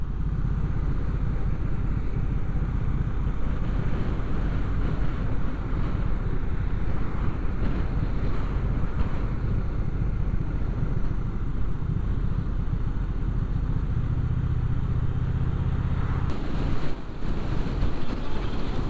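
Strong wind buffeting the microphone during an outdoor ride, a continuous loud low rumble and roar with gusty swells throughout.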